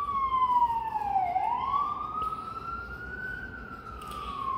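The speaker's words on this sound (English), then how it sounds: "I apologize for the sirens if you hear it." Police and emergency vehicle siren wailing outdoors at a distance, one continuous tone falling and then rising again in a slow sweep, moderately loud over faint road rumble.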